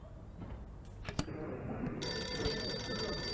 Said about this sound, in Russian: Опа, телефон.